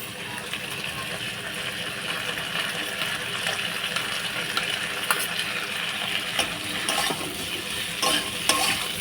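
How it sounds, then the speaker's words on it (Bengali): Ginger and garlic sizzle in hot oil with potato and papaya pieces in a pan, a loud, continuous crackling fry with stirring scrapes throughout and faint background voices. "আমি ভালোভাবে আদা রসুনটা ভেজে নেব আলু আর পেঁপেটার মধ্যে দিয়ে"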